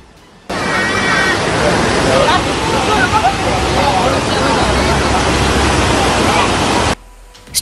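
Floodwater rushes and churns loudly as an SUV pushes through a flooded road in Sumber, Rembang, Central Java, a steady broadband wash starting abruptly and cutting off near the end.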